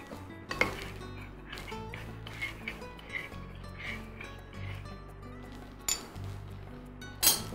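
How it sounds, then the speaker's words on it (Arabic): Rice pudding with milk and vanilla being stirred in a pot, a spoon clinking and knocking against the metal sides at irregular intervals over a quiet background hum. "نقلب بقى هنا الرز بلبن"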